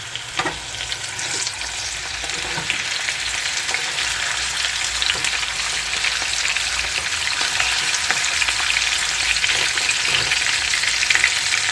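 Chicken breast sears skin-side down in hot oil in a pan, giving a steady, loud, crackling sizzle with scattered pops throughout. It runs alone, with no voices.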